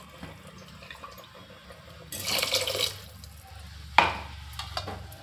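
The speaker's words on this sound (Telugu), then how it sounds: "గ్రేవీ మనకి ఇంకొంచెం ఎక్కువ కావాలంటే కొంచెం వాటర్ వేసుకోవచ్చు" Water is poured into a simmering potato and green pea curry: a splashing pour of about a second, followed shortly by a sharp clink of a utensil against the pot, with no talking.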